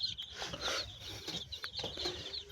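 Young chicks peck at starter feed spread over wood shavings, giving off faint, busy cheeping and clucking in irregular bursts, with no talking.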